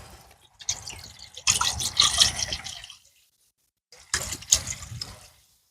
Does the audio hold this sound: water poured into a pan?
yes